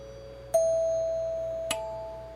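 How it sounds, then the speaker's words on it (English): A 1938 16-volt doorbell rings two chime tones one after the other, the first note sustaining clearly before the second strikes, in an otherwise quiet room. "original doorbell from this house, which was built in 1938"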